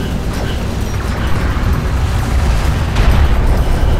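Rumbling explosions as an armored vehicle takes fire in the Homeworld: Deserts of Kharak video game, a loud, continuous low booming with a heavier blast near the end.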